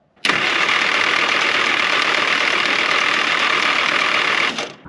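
An engine cranking with a ballast resistor in the ignition circuit, one continuous loud whirring crank lasting several seconds, close up and alone before it cuts off.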